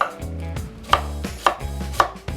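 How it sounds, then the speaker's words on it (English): A knife chops a large peeled onion on a cutting board in several steady, evenly spaced thuds, each with a sharp crisp attack, close and clear with no voices. "Now there are two different ways to cut your onion"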